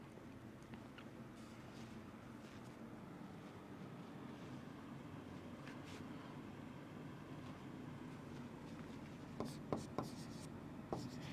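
Faint pen-on-paper writing, soft continuous scratching close by with a few sharp taps near the end, over a low steady background hum.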